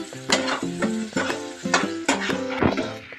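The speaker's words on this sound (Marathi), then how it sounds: "चला आता आपण याच्यात टाकूया ते वाटण आणि मसाला" Ground paste and masala hitting a hot pan for mackerel curry, a sizzle punctuated by rhythmic scraping strokes of a spoon, close and steady, with no talking.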